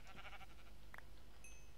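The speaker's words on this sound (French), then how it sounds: "Salut le mouton!" A sheep in a video game gives a brief, faint bleat amid quiet game background sound, followed by a short electronic chime.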